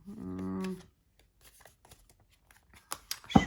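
A brief low hum, then soft scattered taps and a quick papery riffle of cards shuffled near the end, quiet overall.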